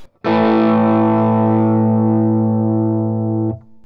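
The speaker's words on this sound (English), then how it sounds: "It is a full humbucker sound." A distorted electric guitar through a Seymour Duncan P-Rails bridge pickup in full humbucker mode on a Vox Humana CarbonTech Custom Telecaster Thinline: one loud, sustained chord rings for about three seconds, then is cut short.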